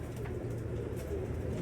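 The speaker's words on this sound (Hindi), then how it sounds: "ये दोस्तों दिल के करीब कबूतर हैं जो आपको शो करवा रहा हूँ।" Domestic pigeons of the Teddy breed cooing softly and steadily, a low continuous murmur close by with no speech.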